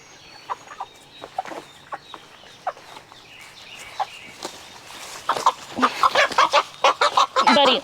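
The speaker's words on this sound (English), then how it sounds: "There's a lot of roosters." Roosters clucking in a busy flock, scattered short calls at first that grow louder and denser toward the end, several birds calling close by with no talk.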